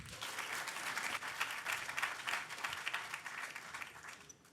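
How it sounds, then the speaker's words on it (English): Audience applause fills a closing ceremony at a hackathon in New York, dense and steady clapping from a large crowd that carries on evenly before tapering off at the very end. "Please give them a massive round of applause."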